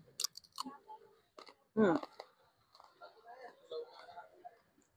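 A brief, loud crunchy bite of crispy lechon roast pork lands between stretches of talking, followed by quieter chewing sounds under the voice.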